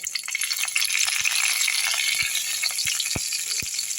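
Ingredients crackle steadily as they fry in hot oil in a kadai, a dense continuous sizzle with a few sharp pops and spatters, close and fairly loud throughout with no voices.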